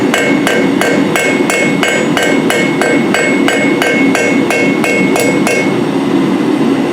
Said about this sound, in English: And we're just work hardening it right now.